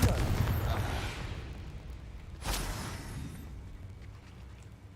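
A blasting spell explodes in a Harry Potter video game: a heavy, rumbling boom opens the clip and slowly decays, then a second sharp blast hits midway and fades into a low, lingering roar.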